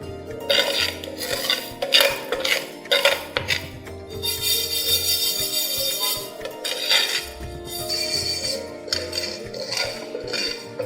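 Raw rice roasting in a pan for Chettinad kummayam, stirred steadily with a metal spoon: continuous scraping and clinking of utensil against pan, with dense sizzling hiss, fairly close and unbroken with no talk.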